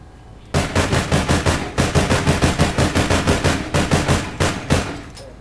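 Rapid automatic bursts from an SR-15 rifle in the shooter game APB Reloaded, fitted with Heavy Barrel 1, crack out loud and close in several sustained strings of evenly spaced shots with brief pauses between.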